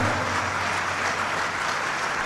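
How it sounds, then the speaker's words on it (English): An audience claps together at a Success Africa gathering, a brief, even burst of many hands held at a constant level from start to finish. "All they did was to clap."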